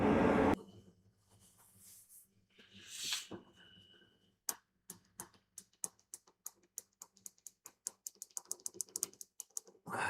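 Keyboard keys are pressed one after another during testing, first with scattered noises and then a steady run of crisp, close clicks.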